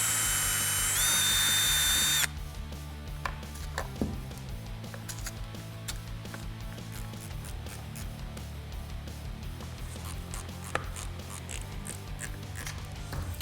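Power drill boring pilot holes for screws while fitting a Baggster conversion on a Harley-Davidson Dyna motorcycle, with a loud high whine for the first two seconds, then quieter intermittent whirring and clicks.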